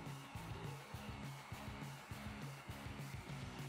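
A heat tool blows a steady whoosh as it heat seals a carved EVA foam koozie piece. A low rhythmic motor hum sits under the airflow, close and constant throughout.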